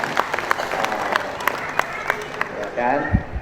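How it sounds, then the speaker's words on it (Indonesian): Crowd applauding at a large gathering of village heads and officials in Bandung, West Java, with scattered sharp claps over a steady clapping wash, mixed with crowd noise and a voice talking near the end. "tepuk tangan semuanya"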